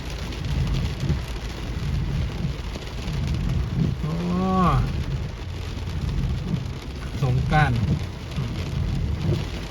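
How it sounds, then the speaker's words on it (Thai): Steady rain pours down on a flood in Sarakham, Thailand, with a constant hiss, while a voice briefly calls out twice over the downpour. "ฝนจะตกมากน้อยไม่เป็นไร"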